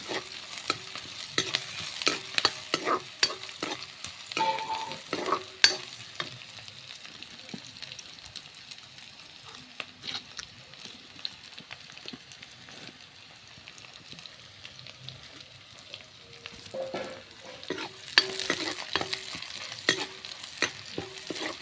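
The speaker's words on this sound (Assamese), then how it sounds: "পিঁয়াজখিনি মই অলপ ৰঙা হোৱালৈকে ভাজি আছোঁ" Onions frying in a pan give a close, crackling sizzle, broken by repeated scraping and stirring strokes of a spatula that come in bursts and then pause quietly before picking up again.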